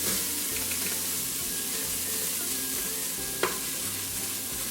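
Diced onion water-sautéing in an Instant Pot, a steady low sizzle and bubbling hiss with light stirring and a single sharp tap near the end, no voices.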